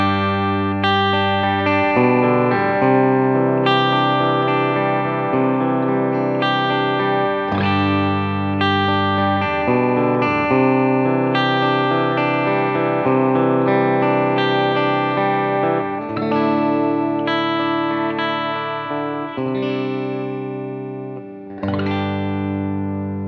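A PRS SE Bernie Marsden electric guitar on the bridge pickup through distortion plays sustained, gritty chords and riffs, loud and close, with chord changes every second or two and a short pause near the end.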